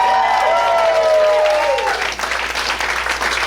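Audience applause at a stand-up comedy show, steady clapping from a live crowd that swells early and continues at a softer level with some mixed voices.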